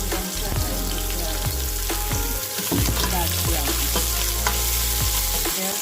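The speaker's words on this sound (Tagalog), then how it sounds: "Lagyan na natin siya ng olive oil. Lagyan na natin ang ating bawang at sibuyas." Garlic and onion sizzle steadily in hot olive oil in a casserole, a loud, continuous frying hiss broken by occasional stirring scrapes, with no talking.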